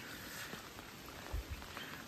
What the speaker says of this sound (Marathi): पाऊस भारीच चालू झालो